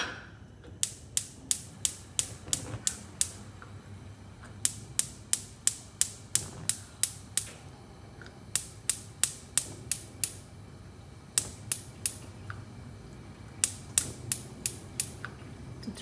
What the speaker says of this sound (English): Twist the knob slowly to the left.